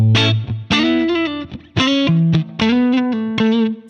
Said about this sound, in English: So British 45, obviously based off the Marshall JTM 45.